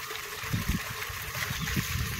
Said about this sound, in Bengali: আমার মুখ ধোয়ার জল এখান থেকেই বেরিয়ে গেল